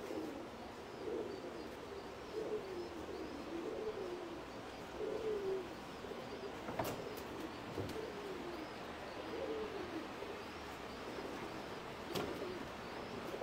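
Pigeons coo repeatedly in a breeding loft, soft rounded calls rising and falling at a moderate distance over steady room noise, with a couple of sharp knocks and flutters partway through.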